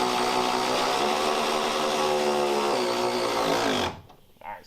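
A power tool, likely an impact wrench, runs a strut down on a Kia Spectra during a suspension lift, a loud steady whirring buzz lasting nearly four seconds before cutting off abruptly, followed by a brief faint clatter.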